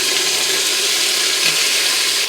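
Pork belly pieces searing in hot oil for Chinese braised pork belly, a steady, close, bright sizzling hiss that stays even and continuous without talk.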